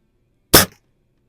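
A single close shot from a Xisico XS46U .22 caliber underlever spring air rifle: one sharp, loud crack with a short decay, surrounded by quiet.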